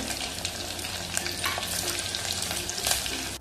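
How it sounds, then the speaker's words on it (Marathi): Curry leaves and sliced mild green chillies crackle and sizzle steadily in hot oil with popped mustard seeds and cumin, a close, continuous frying hiss with occasional sharper pops and a stirring scrape, no talking. "आता कढीपत्ता टाकूया. हे 2 मिरच्या कमी तिखट कापून घेतल्यात त्या टाकूया."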